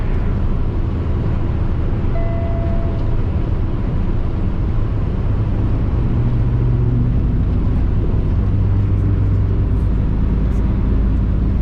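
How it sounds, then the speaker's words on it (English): A Lamborghini sports car passes by outdoors, a steady broad engine and road roar that swells slightly toward the end, with no talking. "Oh shit, it's a badass Lamborghini ready to ride past."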